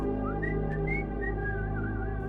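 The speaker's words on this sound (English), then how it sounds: "I heard something strange. Whistling." A melodic whistled tune with gliding, wavering notes, steady and fairly clear over a low background hum.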